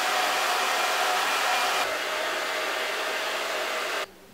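A hair dryer blows steadily at close range while drying hair during an at-home progressive straightening touch-up, its airflow shifting slightly midway before it cuts off near the end, with no talking.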